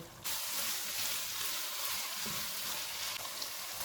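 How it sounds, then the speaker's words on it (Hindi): Minced keema fries on a medium flame until the oil separates. It gives a steady, even sizzle and crackle that keeps going without a break. The sound is fairly quiet and close, with no talking. "अब हम चूल्हे को मीडियम कर देते हैं और इसको ऑयल अलग होने तक भूनेंगे"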